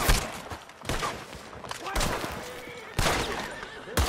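Gunfire in the video game Red Dead Redemption 2: sharp single shots at roughly one-second intervals, fairly close, with horse whinnies and hoof sounds in the background.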